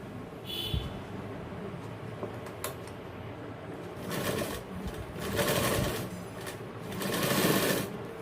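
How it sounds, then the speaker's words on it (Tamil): A sewing machine runs a double seam on a 34-inch modelling jacket with a modelling collar, stitching in steady mechanical bursts that swell and ease, with short pauses between runs and no talking. "இப்போ திருப்பி டபுள் தையல் தைக்க போகிறோம்."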